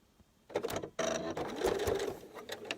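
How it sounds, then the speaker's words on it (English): A sewing machine stitching down a small fabric mini wallet, starting with a brief burst, then a short pause before a sustained mechanical whirring run of stitches, close and steady with no speech. "Back stitch, of course, to secure your stitches, and then stitch all the way to the bottom."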